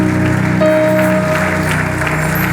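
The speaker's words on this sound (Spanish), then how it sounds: "Denle un aplauso al Señor." A church congregation claps in loud, dense applause at a baptism service, a continuous burst of many hands filling the room, with a brief tonal note from instruments underneath.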